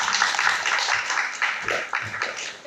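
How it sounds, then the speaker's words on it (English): An audience at a hotel-industry fireside chat claps together, a close, bright, crackling round of many hands that swells and then thins slightly toward the end. "why don't you clap for yourselves for being here?"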